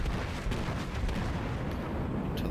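Battleship Fuso fires its heavy naval guns in World of Warships, giving a continuous roar of booming cannon fire and rumbling blasts, loud and close, with no talking.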